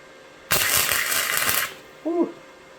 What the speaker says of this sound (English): See if we can do a better job welding this time.